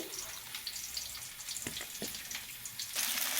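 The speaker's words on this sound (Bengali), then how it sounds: "এবার আমি এর মধ্যে একদম পরিমাণ মতন অল্প জল ব্যবহার করছি" A little water is poured into ginger and garlic for making a paste, a faint brief trickle and splash close by in a quiet kitchen, ending in a louder burst of running water.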